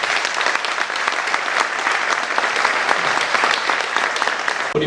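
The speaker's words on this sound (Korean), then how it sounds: "우리 토론자 여러분들께 박수 한번 해주시죠." Sustained, dense applause fills an audience hall at an economic forum symposium as listeners clap for the panel discussants, steady and even throughout with no voices over it.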